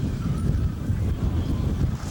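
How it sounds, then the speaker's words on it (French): Strong cold wind blows steadily at a ski station in winter, a constant low rushing roar buffeting the microphone for the whole stretch with no voices. "Beaucoup de vent aussi à Bécomo."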